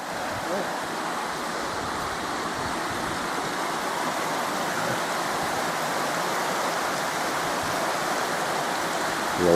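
Water pours over the old spillway of a small Welsh reservoir, making a loud, steady, broadband rushing roar that stays constant throughout.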